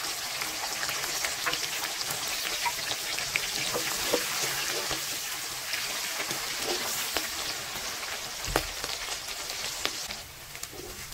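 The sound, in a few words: green chili slices frying in oil in a wok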